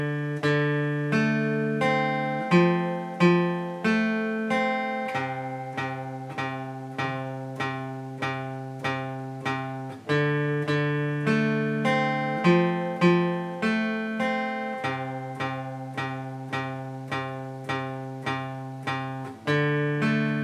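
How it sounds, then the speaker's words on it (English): Acoustic guitar playing a song's chorus at a slow practice tempo. Clear strummed chords ring out one by one in an even, repeating pattern, close and alone with no talking. "I'm going to play the whole chorus slowly"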